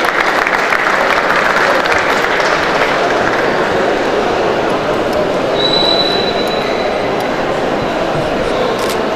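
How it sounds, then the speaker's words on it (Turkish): Dense, steady applause from a large audience at the TÜYAP book fair, filling the hall loudly and evenly for about nine seconds with no voice on top. "TÜYAP Kültür Fuarı Danışma Kurulu Başkanı Sayın Doğan Kuzan'ı davet ediyoruz efendim alkışlarınızla."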